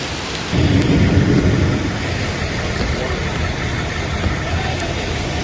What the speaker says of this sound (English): heavy rain moved through the region